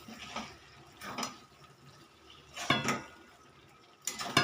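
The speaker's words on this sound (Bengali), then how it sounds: "মাছটা আমি এখন ছড়িয়ে দেব। দিয়ে হালকা একটু নাড়াচাড়া করব।" Fish curry being stirred in a pan, a few intermittent scrapes and clinks of the spoon against metal in short bursts, near and moderately quiet, with no talking.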